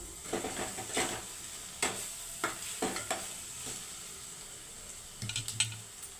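Eggs frying in a pan of oil while making egg curry, a soft sizzle punctuated by irregular stirring scrapes and clinks of a utensil against the pan.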